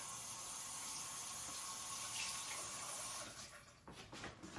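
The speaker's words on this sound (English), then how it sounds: "Get a little bit of water going." Tap water runs steadily into a stove-top cleaning setup, a continuous close hiss that drops away near the end with a few splashy handling sounds.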